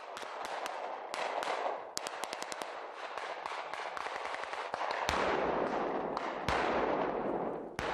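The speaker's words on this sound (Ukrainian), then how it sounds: "Казкову зимову тишу лісу розривають вибухи та постріли." Gunshots and explosions crack through a winter forest during military anti-sabotage training, a rapid mix of sharp single shots, quick bursts like machine-gun fire and heavier booms, loud and echoing without pause.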